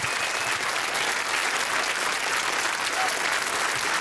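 Dense, sustained applause from a large audience, an even wash of clapping with no pauses.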